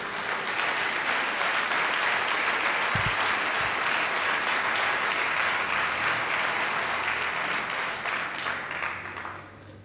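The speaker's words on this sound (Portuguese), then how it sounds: "Aplauda ao Senhor com alegria." A church congregation breaks into dense, sustained applause, a thick wash of many hands clapping at once that holds steady and then begins to thin out near the end.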